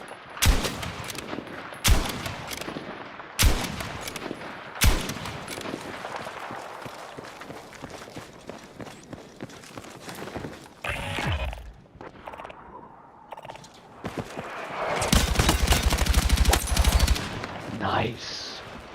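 In a video game battle, sharp gunshots crack out in spaced bursts over a busy background of rattling fire, then a heavy, rumbling artillery strike booms near the end.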